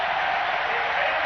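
A stadium crowd at Haile Gebrselassie's 1995 5000m world record race roars with sustained cheering and applause, a loud, dense, unbroken wash of sound throughout.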